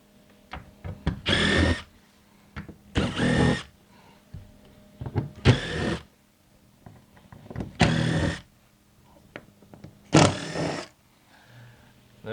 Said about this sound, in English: we're going to start by removing these screws all the way down the column